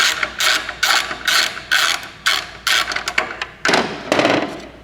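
A ratchet wrench loosens the bolts on a turbo heat shield, delivering rapid bursts of clicking in short, uneven strokes, close and loud with no talking.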